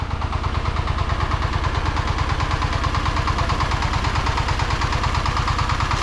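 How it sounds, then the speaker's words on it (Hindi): An old, rattly tractor engine runs steadily and close, its rapid regular chugging pulses unbroken and loud throughout, with no voices. "खटारा ट्रैक्टर है, खटारा।"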